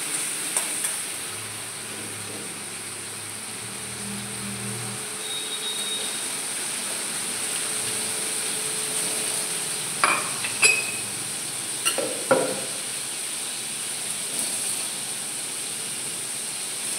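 Onion, garlic and ginger paste frying in a pan, a steady bright sizzle running throughout, close, with a few scrapes and knocks of a spoon toward the end.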